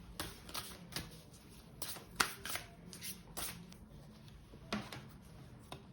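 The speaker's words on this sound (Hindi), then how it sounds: "एक और कार्ड निकालेंगे आपके लिए यहाँ पे।" Tarot cards being shuffled and drawn for a reading, a quick close series of crisp riffling snaps and flicks in an irregular rhythm, quiet and with no talking.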